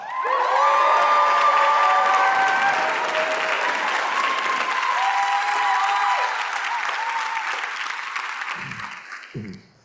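A large crowd at a medical and dental school graduation ceremony applauds and cheers loudly, with whoops and shouts over continuous clapping that gradually fades near the end.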